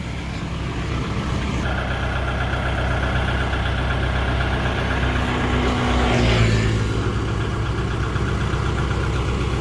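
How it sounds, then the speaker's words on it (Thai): A farm tractor engine runs steadily while pulling a stuck vehicle, a continuous loud mid-pitched drone that swells briefly midway as the load increases, with no talking over it. "ใช้รถไถดึง"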